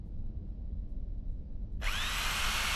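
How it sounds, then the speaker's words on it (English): Power drill whirring to drive a cover shut in the Gold Mining Simulator 2 video game, a sudden loud high-pitched spin kicking in after a quiet stretch and running steadily to the end. "And now we're going to drill her shut."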